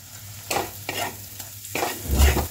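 Coriander powder and spice mix sautéing in a pan for veg biryani, with a steady sizzle and several scraping stirs at a regular pace, close and fairly loud, and a heavier stir near the end.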